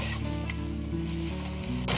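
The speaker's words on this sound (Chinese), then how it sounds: "给它炒一炒，炒香。" Minced pork stir-fried in oil with dried shrimp and dried shiitake mushrooms, a steady close sizzle with occasional stirring scrapes, continuous and fairly loud throughout.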